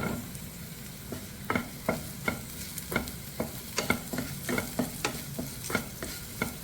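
Carrot and beetroot sautéed with turmeric powder in a pan for a Kannur-style thoran, steady scraping stirs repeating about twice a second over a soft sizzle, close and alone.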